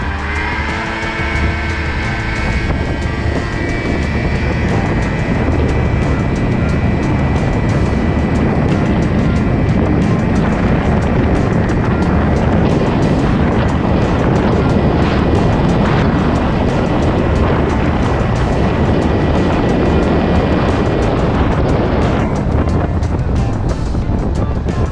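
A derestricted motorbike fitted with a Yasuni Z pipe exhaust accelerating hard, its engine roar loud and continuous throughout with heavy wind rush over the microphone, pitch rising through the first seconds.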